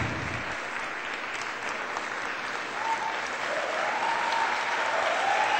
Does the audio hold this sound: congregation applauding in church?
yes